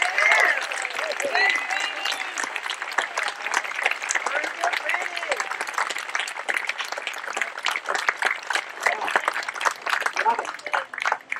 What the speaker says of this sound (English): Can I please have a great round of applause for our Grand Marshal, Francis J. Callery.